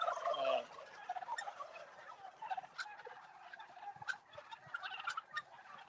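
Turkeys on an Indiana turkey farm gobble repeatedly in a busy flock, several calls overlapping at close and middle distance with a steady chorus of bird noise between them.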